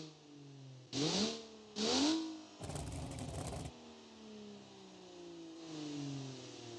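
A synthetic BeamNG video game car engine revs up sharply twice toward 8,000 RPM, then holds a rough, buzzing high-rev drone before dropping back to a steady idle hum.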